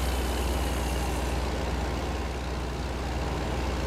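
Truck engine in American Truck Simulator, Idaho route, a steady low rumble and drone with light road noise, continuous and fairly even throughout, with no voices.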